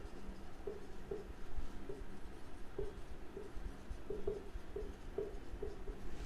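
Pen writing amounts on paper during an accounting lecture: faint, soft scratchy strokes in short irregular bursts over a quiet background, with no voice heard.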